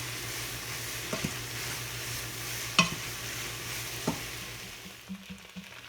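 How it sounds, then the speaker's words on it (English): Ground beef and onions frying in a pan as taco seasoning is stirred through, with a steady sizzle and a few scraping stirs and clicks from the spoon, fairly close and alone. "And we'll mix that into the ground beef and onions."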